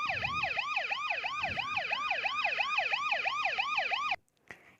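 Ambulance siren in hyper yelp mode, a rapid repeating up-down wail with about three sweeps per second, loud and steady for four seconds before cutting off abruptly.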